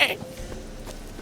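A single short goat bleat in The Witcher 3: Wild Hunt opens the moment, loud and close, then fades into faint ambient background.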